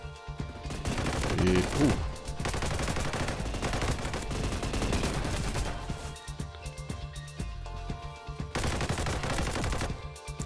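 Rapid automatic gunfire rattles through a multiplayer shooter match in dense, loud bursts that keep going for most of the time, with a short break near the end before firing starts again, and a brief spoken exclamation over it.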